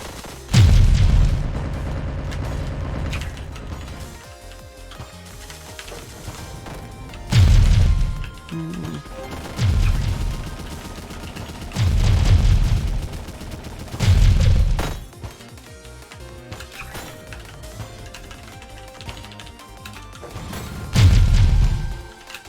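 Explosions in the video game One Step from Eden: deep booming blasts land in separate heavy bursts every few seconds, loud and close over a quieter continuous game soundtrack.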